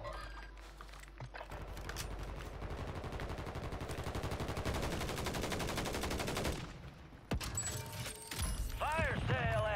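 Sustained automatic gunfire in a shooter video game, a dense rattling burst lasting several seconds and then breaking off, followed by scattered shots and game voice callouts.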